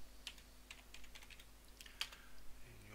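Someone types an address on a computer keyboard, a faint, close patter of scattered keystrokes over low background hum.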